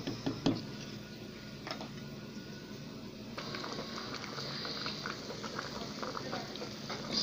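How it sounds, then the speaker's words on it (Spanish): Beef tendon and cow's foot soup bubbling under a lid in a covered pot, a soft steady patter and simmer with a few clinks early on, no talking. "ahora la voy a tapar y la voy a dejar ahí que siga hirviendo"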